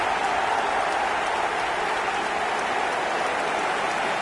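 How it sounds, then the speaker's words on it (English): A video game stadium crowd applauds a goal in a steady, dense wash of clapping and cheering, continuous and fairly loud throughout. "Even some of the opposing fans are clapping that."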